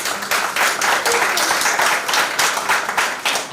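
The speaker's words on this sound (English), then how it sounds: "as we give them a round of applause." An audience at a high school debating competition applauds the students, a dense, steady wash of many hands clapping that stays loud and close throughout.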